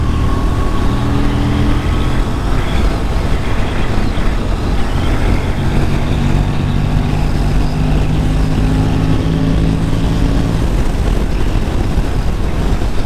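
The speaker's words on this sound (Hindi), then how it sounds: "देखो खुला रोड मिला है तो थोड़ा सा भगाते हैं बाइक को" An Aprilia RS 457 motorcycle accelerates on an open road in sixth gear, its engine a rising drone buried under loud, constant wind rush against the microphone.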